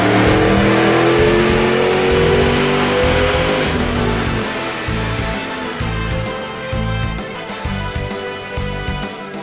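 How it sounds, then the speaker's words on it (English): A 2010 Mustang GT V8 fitted with a BBK twin 62mm throttle body revs hard on a dyno, a loud sustained engine roar climbing in pitch, then easing and falling back as the run winds down. "Let's go ahead and take it for a test drive on the dyno and see how it does."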